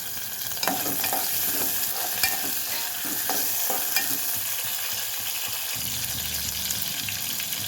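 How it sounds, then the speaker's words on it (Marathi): Sliced tomato frying in a hot pan, with a steady loud sizzle under intermittent stirring scrapes, close up and with no talking. "तर आता यामध्ये मध्यम आकाराचा उभा चिरलेला टोमॅटो घालून घेऊया."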